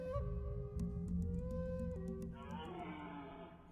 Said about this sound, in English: And that's definitely like an elk.